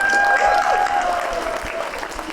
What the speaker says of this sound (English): I want you to give yourselves a round of applause for being here.